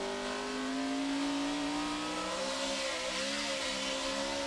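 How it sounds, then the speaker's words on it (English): A NASCAR Sprint Cup race car engine drones at high pitch during practice at Richmond, its tone climbing steadily as it revs, with a wash of wind and track noise around it. "Hear the engine rev up right there."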